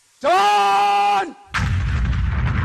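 Staged gunfire in a theatre play about Captain Vikram Batra erupts as a loud, sustained roar of noise. It follows a long, drawn-out shouted call and continues to the end.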